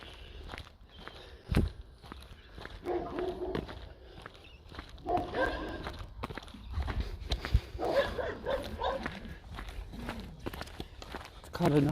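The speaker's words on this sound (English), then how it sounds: "It's kind of nice except for the noisy dogs." Dogs bark and yip from a distance amid footsteps and people talking, the barking coming in scattered bursts under the movement.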